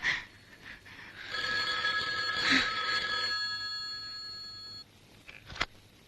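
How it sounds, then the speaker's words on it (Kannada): An indoor telephone rings with a bright electronic trill, one long burst of a few seconds preceded and followed by short faint rings, with no talking over it. "ಫೋನ್ ತಗೊಳ್ಳಿ ಕಾವ್ಯ."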